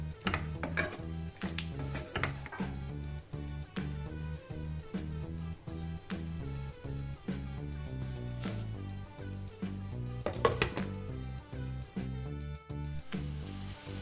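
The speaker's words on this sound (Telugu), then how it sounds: "సో ఈ పంచదార అంతా బాగా కరిగి కొంచెం థిక్నెస్ వచ్చే వరకు కలుపుతూ" Carrot halwa is stirred in a pan as the sugar melts, the spoon scraping and clinking against the metal in a steady repeated rhythm, close and fairly quiet, with no talk.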